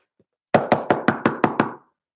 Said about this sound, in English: knocked on the front door